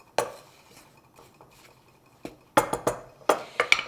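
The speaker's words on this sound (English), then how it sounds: "I'm adding a tablespoon of baking powder and a half a teaspoon of salt. Let's give that a little mix." Dry ingredients of flour, baking powder and salt mixed by hand in a bowl for apple cinnamon muffins, giving quiet scraping at first, then a run of sharper utensil clinks and taps against the bowl near the end.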